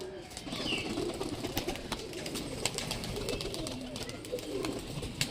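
Lambert pigeons coo softly near a net as they are released, with light fluttering and rustling close by and a voice faintly in the background.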